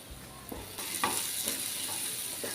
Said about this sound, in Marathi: आता एखाद मिनटं आपल्याला व्यवस्थित परतवून घ्यायचं आहे